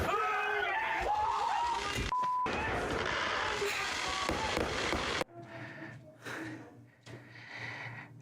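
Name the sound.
fireworks exploding outside at night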